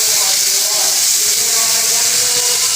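Tomatoes frying with salt in a pan, a steady loud sizzling hiss that stays even and continuous throughout.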